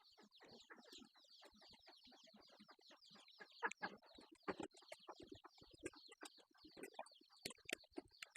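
Chickens cluck steadily at close range, a busy run of short, choppy calls with occasional louder squawks over a dense flock chatter.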